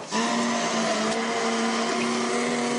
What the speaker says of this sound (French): on va tout simplement le mixer pour avoir une masse bien lisse